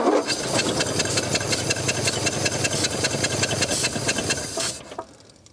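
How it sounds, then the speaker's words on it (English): Liquid pours steadily from an unclamped hose on a 42-year-old Ford flathead V8, a loud continuous hissing gush that cuts off abruptly near the end, with no talk. "What is that dumping on the ground? Oh, there's no hose clamp."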